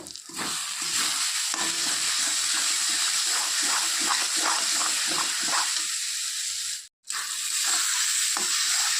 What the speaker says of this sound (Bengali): মশলাটা একটু কষিয়ে নেওয়া হয়ে গেছে